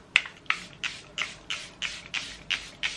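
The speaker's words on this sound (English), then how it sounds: "I'm gonna go in at this point with the Charlotte Tilbury Airbrush Flawless Setting Spray" Charlotte Tilbury Airbrush Flawless Setting Spray misted in nine quick, evenly spaced hissing bursts, close and fairly soft, each a short airy spritz.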